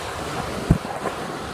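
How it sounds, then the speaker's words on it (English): Ocean surf on a Panama City beach on spring break, a steady wash of waves and wind noise with one brief thump near the middle, no one talking. "We're on the beach now."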